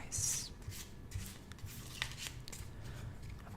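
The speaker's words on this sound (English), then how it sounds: "I'm going to give the cards a little bit of a shuffle" A deck of cards is riffled and shuffled by hand up close in a quiet room, a crisp flurry at the start followed by soft taps and rustles, no talking.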